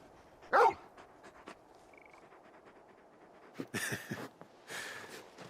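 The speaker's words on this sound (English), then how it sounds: "You're just a big puppy, aren't you? A very big puppy." A large dog barking in the video game Final Fantasy XVI, a sharp loud bark near the start followed by quieter scattered noises and a few rough, breathy vocal bursts later on, with no talk.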